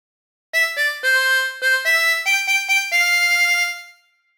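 A chromatic harmonica plays a phrase of When the Saints Go Marching In, clean sustained reedy notes in a short rising and falling melody, alone and close, ending on a held note that fades.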